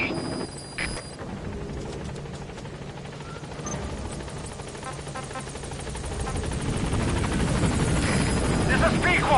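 The Pequod helicopter in Metal Gear Solid V arriving at a landing zone, its rotor thrum swelling louder and closer over several seconds, mixed with game effects and a faint electronic chirp.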